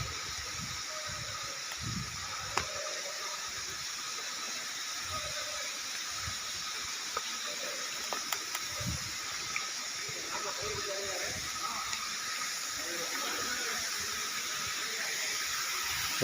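A forest waterfall gives a steady, broad rush of falling water that stays even throughout, with faint voices and scattered small noises underneath.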